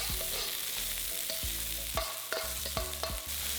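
Chopped onion sautés in oil reused from earlier frying while a utensil stirs and scrapes the pan, making a steady sizzle broken by several distinct scraping strokes.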